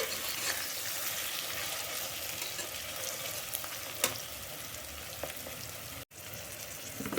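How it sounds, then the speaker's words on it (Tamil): Onions and green chillies browning in a pan for jeera rice mutton biryani, a continuous close sizzle with occasional stirring clicks, one brief dropout near the end before the frying resumes. "பாருங்கள், வெங்காயம் நல்லா வதங்கிடுது, நல்ல ப்ரௌனாக."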